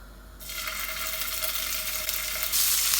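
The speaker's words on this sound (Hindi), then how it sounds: "फ्राई कर लेंगे पेस्ट को ताकि गार्लिक जिंजर में से कच्चापन चला जाए" Garlic-ginger paste hits hot oil with cumin seeds and sizzles steadily, a loud, continuous frying hiss that surges brighter near the end, close up with no talking.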